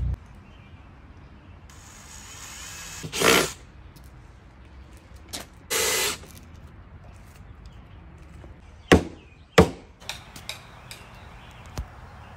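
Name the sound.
hammering wooden blocks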